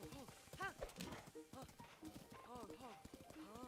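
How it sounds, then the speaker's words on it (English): A horse's hooves clip-clop in a steady, rhythmic trot in a Zelda video game. The hoofbeats are faint and sit under people talking over the game. "You ever use Ganon's horse"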